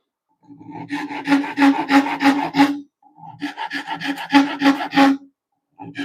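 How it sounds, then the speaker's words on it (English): A Japanese hand planer is pulled across plywood in a quiet workshop, making two long runs of rapid, rhythmic rasping strokes, close and fairly loud, with a brief pause between them and a short start of a third. "I just take the little Japanese hand planer"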